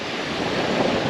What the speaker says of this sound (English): It's a little bit windy today and a little bit chilly.